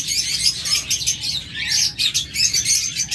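A pair of long-tailed finches calls in steady, rapid, high chirps, a continuous busy twittering that sounds close and clear with no voices.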